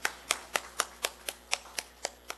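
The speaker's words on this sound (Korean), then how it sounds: "우리 하나님께 영광의 박수 같이 올려드리겠습니다" A church congregation claps together in a steady, evenly spaced rhythm, about ten sharp, close claps, with no talking over them.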